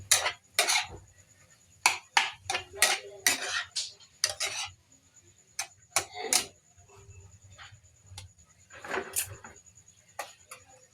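Dabong, bamboo shoots, being stirred with sardines in a pot: a close, irregular series of sharp metal utensil scrapes and clinks against the pot, coming in bursts with brief pauses.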